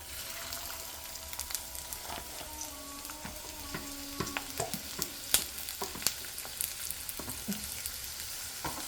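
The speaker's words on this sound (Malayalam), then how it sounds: "എണ്ണ ഒന്ന് ചൂടായതിൻ്റെ ശേഷം നമുക്ക് ഈ ഉള്ളി ഇട്ട് കൊടുക്കാം" Onions sizzle in hot oil for a chicken curry, and a utensil stirring the pan adds frequent sharp clicks and scrapes that grow busier over the nearby continuous frying hiss.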